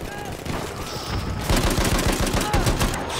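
Rapid bursts of gunfire crackle in the Battlefield 1 video game, a dense run of loud shots that thickens into a steady rattling stream midway, over a noisy battlefield background.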